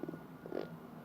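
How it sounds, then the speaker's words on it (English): A short, throaty burp made up close, a low gurgling belch of about a second with a brief swell in the middle, heard alone. "Sorry, that's just a burp."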